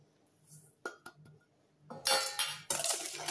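A whisk clinks against a bowl while beating egg yolks with sugar for an almond sponge, quiet taps at first, then a loud, busy scraping rattle close by.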